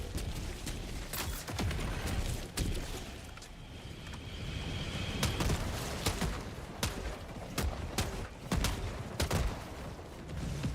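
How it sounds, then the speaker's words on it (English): A grenade launcher fires in Helldivers 2 over a windy, surf-like ambient backdrop, with repeated sharp blasts popping irregularly throughout at moderate loudness. "is there something wrong with the grenade launcher?"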